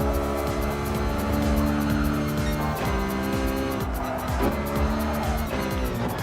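Race car engine in Gran Turismo Sport, a Gr.4 machine, drones loudly and continuously with shifting pitch, joined by tire squeal and skidding throughout.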